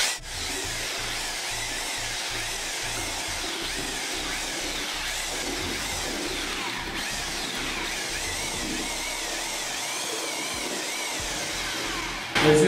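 A power drill with a mixing paddle runs continuously, whirring and churning as it scrapes through thick thinset tile mortar, ending with a brief clunk.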